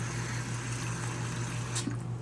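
Water is poured into a pot of shrimp for a shrimp bake, a close, steady, continuous rushing flow with no talk.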